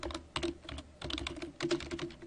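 Computer keyboard typing during a PowerPoint 2010 session, quick clusters of close, crisp keystrokes in short bursts with brief pauses between them, no voices.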